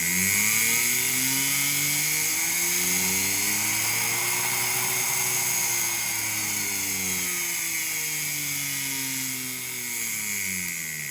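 A brushed-motor power carving tool runs under a speed controller, its steady whine gliding smoothly up and down in pitch as the speed is varied, continuous and close throughout.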